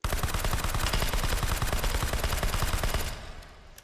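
Rapid bursts of suppressed MP5 submachine gun fire in 9mm Parabellum from the H3VR virtual reality game, a dense loud automatic stream of shots for about three seconds, then stopping with a short fading tail.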